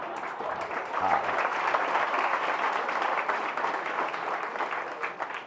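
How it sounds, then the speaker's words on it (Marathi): Applause from an audience at a public lecture, a broad even wash of many hands clapping that holds steady and loud throughout, with no talk over it. "योग्य वेळी टाळ्या वाजल्या"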